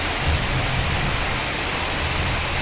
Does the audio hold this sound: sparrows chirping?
no